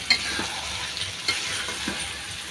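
Mixed vegetables frying in a pan for a vegetarian curry, a dense continuous sizzle broken by a few sharp scrapes of stirring, close and fairly loud with no voices.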